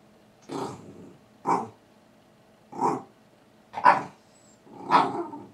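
A dog barks on command five times in separate, evenly spaced single barks, fairly close and clear, with short quiet gaps between them.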